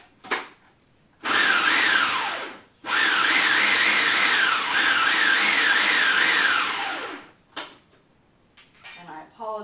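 Small food processor blending washed mushrooms, running loud in two sustained whirring bursts with a wavering motor pitch, separated by a brief stop, with clinks of the bowl and lid at the start and end.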